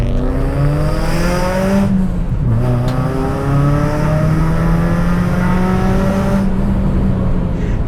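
A Mitsubishi Cedia with a Borla exhaust revs hard up close, its loud, droning engine note climbing in pitch, dropping briefly, then rising again and holding a sustained roar.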